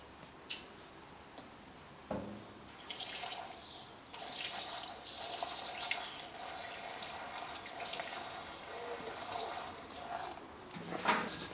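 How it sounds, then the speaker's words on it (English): Petrol runs through a funnel into the fuel tank of a mini dumper, a soft continuous trickling pour heard up close with no talking. "I'm going to use a funnel. And then I'm just going to pour the petrol in there."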